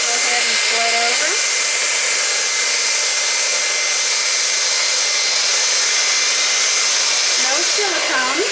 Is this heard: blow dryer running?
yes